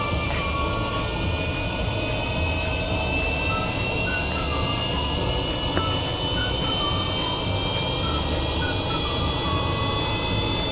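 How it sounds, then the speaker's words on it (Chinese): Twenty aircraft engines on a giant plane in Kerbal Space Program throttle up together, a continuous loud jet whine with layered rising tones over a heavy roar, unbroken for the whole stretch. "我们现在准备开动发动机"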